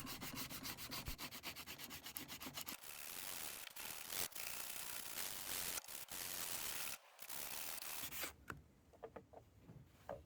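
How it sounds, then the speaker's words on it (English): Continuous abrasive rasping of sandpaper scrubbing surface rust off a metal tool, close up, with short breaks between strokes and a rhythmic pattern near the end. "The rust is mostly on the surface and comes out with a light sanding."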